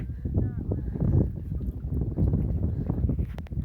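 Wind gusts buffet the microphone out on a lake during stand-up paddleboarding, a loud blustery roar with water sloshing and a voice talking over it.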